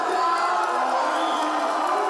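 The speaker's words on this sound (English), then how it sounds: "Huge applause from the crowd watching on." A strongman competition crowd in Germany roars with steady cheering and whoops after a 195 kg log lift, the noise loud, dense and unbroken throughout.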